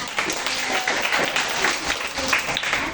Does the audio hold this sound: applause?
yes